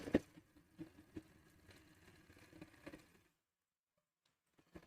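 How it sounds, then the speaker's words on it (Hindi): A domestic sewing machine stitching fabric for a half pant, a close, quiet rhythmic run of needle thumps for about three seconds, then stopping into near silence before a faint restart. "रखने के बाद अब हम इस पर सिलाई लगाएंगे बराबर से।"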